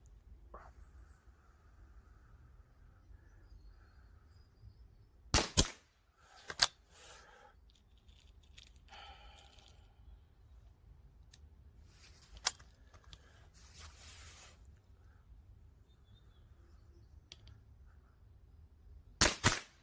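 A TH78D Marksman air rifle fires cleaned, lubed pellets at 10 metres. Sharp isolated cracks come at irregular intervals, one pair close together at the end, with quiet handling noises between them and no talking.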